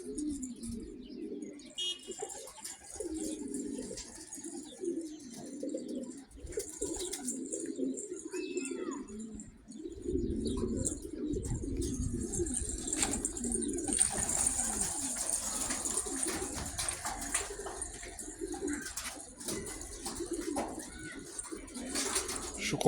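A Turkish pigeon, a straw-coloured makaslı bird given as a gift, coos in low repeated pulses throughout, with steady background noise and no talk.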